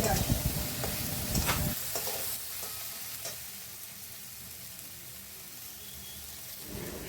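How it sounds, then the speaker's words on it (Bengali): Potatoes and chopped tomatoes sizzling in a pan, stirred with scraping and clatter at first, then a soft, steady frying crackle that continues alone. "ভেজে নিয়ে এবার কেটে রাখা টমেটোগুলোকেও দিয়ে দিলাম। এবার ভালো করে আরেকটু নাড়াচাড়া করে নিতে হবে"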